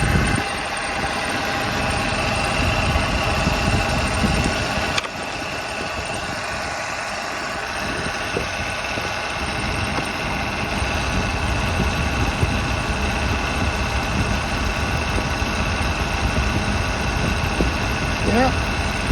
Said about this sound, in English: we're idling now at 650 RPM.